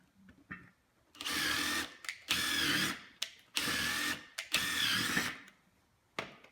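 A power driver runs a waxed lag screw through a pilot hole in wood with four steady whirring bursts of several seconds each, pausing between them, with short blips at the start and end.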